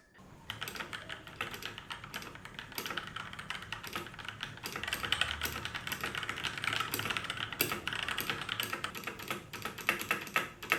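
Fast continuous typing on a Royal Kludge RK61 keyboard with RK switches, a close, dense stream of light clacky keystrokes with no voices.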